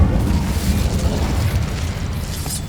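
Incendio fire spell cast in the Hogwarts Legacy video game, a loud, sustained low rumbling burst of flame that fills the whole moment with a dense roar and a faint crackle near the end.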